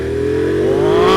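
A Ducati Multistrada V4 Rally motorcycle's V4 engine revs up loudly and close, its tone rising smoothly over a short burst of acceleration.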